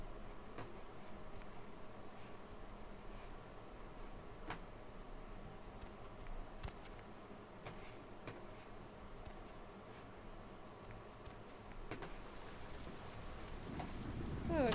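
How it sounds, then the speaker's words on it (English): Steady rain falls in the video game Vampire the Masquerade: Bloodlines, a soft continuous patter with occasional sharper ticks of drops, quiet and unbroken, swelling slightly at the end. "Oh, it's raining again."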